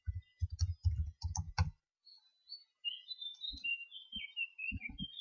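A quick run of crisp computer-keyboard clicks types out a password, then stops, leaving faint birdsong chirping in the background.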